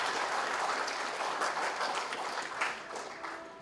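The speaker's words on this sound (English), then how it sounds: "Round of applause also for Dr. T. Shekhar" An audience at a memorial lecture claps steadily, a dense sustained round of applause that fills the room and tapers slightly toward the end, with no voices over it.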